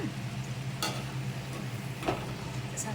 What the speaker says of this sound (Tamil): இது எண்ணெயில் போட்டு வெந்துட்டுருக்கு